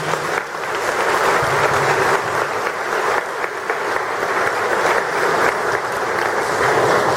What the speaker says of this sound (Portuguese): Vamos acolhê-los com a salva de palmas.